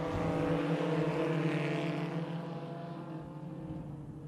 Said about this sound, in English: And our mini stocks are racing.